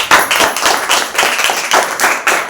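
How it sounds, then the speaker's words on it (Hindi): A congregation at a Wednesday church service claps loudly and rhythmically in unison, with close, sharp beats repeating steadily and no talk over it. "जोरदार ताली बजा से"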